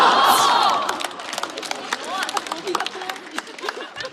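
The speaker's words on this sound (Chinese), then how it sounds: "现场的观众在那拍手" Studio audience on a Chinese variety show cheering and clapping, a loud swell of voices at the start easing into scattered claps and crowd noise under broadband chatter.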